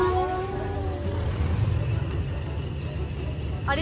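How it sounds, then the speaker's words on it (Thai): A train passes close by on a railway bridge, a steady heavy rumble with a sustained high tonal whine over it, loud and continuous throughout. "ครั้งแรกที่เห็นรถไฟเหรอใกล้ชิดขนาดนี้"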